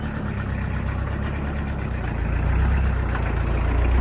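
A farm tractor running steadily with a manure-pellet fertilizer spreader hitched behind it inside a greenhouse, a continuous loud low engine drone holding even throughout with no talk.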